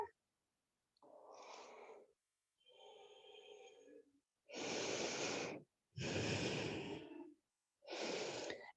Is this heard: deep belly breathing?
yes